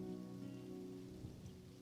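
Steady rain falling and pattering on surfaces, a continuous soft hiss with scattered drops, faint and unbroken over a low tonal hum, with no voices.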